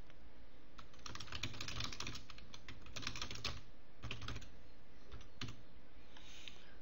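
Keys on a computer keyboard are tapped in quick, uneven bursts as a group name is typed, the clicks close and clear against a quiet room.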